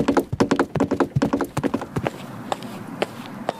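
Coconut shell halves knocked together to imitate a galloping horse: a quick, steady run of sharp hollow clip-clops, loud and close, that breaks off into a few scattered knocks.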